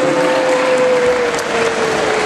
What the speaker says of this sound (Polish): Wielkie brawa dla prowadzącego.